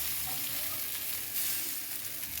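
Crumbled leftover upma stirred into a hot tempering in a pan, giving a steady, close, dense sizzle and frying hiss throughout with faint scraping of the spoon.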